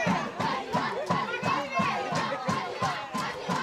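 A lively crowd at an under-15 baseball qualifier between Kenya and South Sudan keeps up a rhythmic chant with clapping, many young voices shouting in regular pulses, loud and close throughout.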